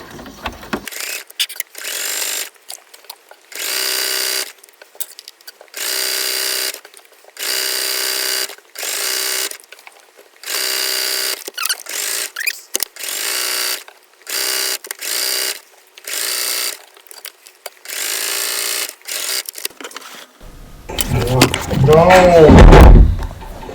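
Domestic sewing machine stitching lace onto the hem of a doll dress, running in repeated loud bursts of a couple of seconds each with brief pauses between, followed by a short louder clatter at the end.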